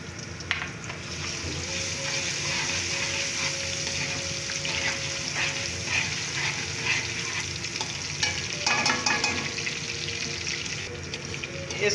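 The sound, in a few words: garlic and green chillies frying in a pan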